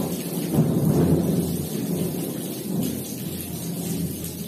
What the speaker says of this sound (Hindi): बारिश रहा है कोई जोर से।